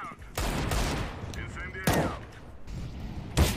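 Video game gunfire erupts as a dense sustained burst of shots, then two more separate cracks follow after pauses, with faint voices mixed in underneath.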